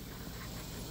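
Catahoula puppies whimper and yip softly during an evening play session outdoors, a brief close-up sound over steady background noise.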